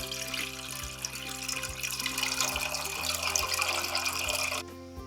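Two cups of water run from a tap into a cooking pan in a steady, close hiss and splash that cuts off abruptly near the end.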